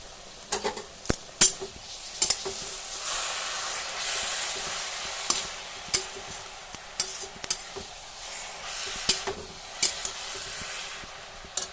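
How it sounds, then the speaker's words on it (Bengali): Squash sizzles softly in a pan while a utensil stirs it, with scattered sharp clicks and scrapes of the spatula against the metal over a continuous low frying hiss. "স্কোয়াশটাকে ভালো করে টানাতে লাগবে যত ভালো করে টানিয়ে ততই খেতে স্বাদ হবে"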